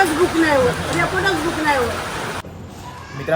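Steady rain falls as a broad, even hiss beneath a person speaking, then cuts away near the end to a much quieter background.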